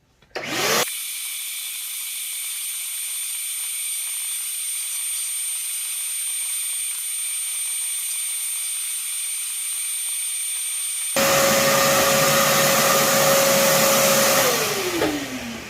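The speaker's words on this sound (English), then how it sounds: "then use a shop vac, get all that crud out of there first" A shop vac sucks crud out of the brake housing of an International 300 Utility tractor: a loud, steady close roar that kicks in abruptly, runs unbroken, then shifts to a harsher, rattling suction as debris is drawn in before winding down.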